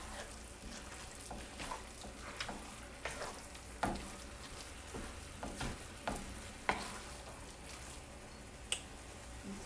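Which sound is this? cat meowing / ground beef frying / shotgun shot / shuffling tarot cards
ground beef frying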